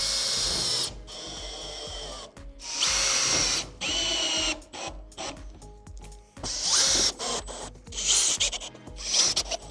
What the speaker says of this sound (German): nun werden wir unser zweites Ortgangblech hier einmal verschrauben, das wir vorhin zugeschnitten haben